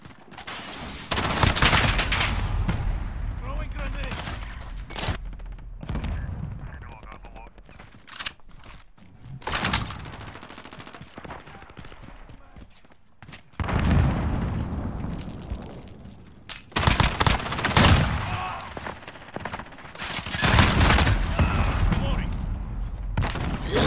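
M4 rifle gunfire from the Call of Duty Modern Warfare beta, with loud rapid bursts and sharp volleys coming in several separate clusters alongside explosive booms, with talk between the bursts.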